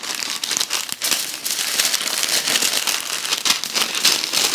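Parchment paper and foil being folded and crinkled around braised lamb ribs, a steady close crackling and crumpling that runs continuously for several seconds with no talk.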